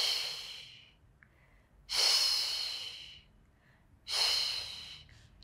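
Forceful exhaled breaths during a beginner Pilates back-strengthening exercise, three long breathy whooshes spaced about two seconds apart, close and clear, with no talking.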